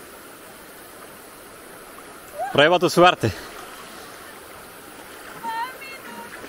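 Water of the Zeta river in Montenegro flows steadily in the background, a constant wash that continues under two brief bursts of speech.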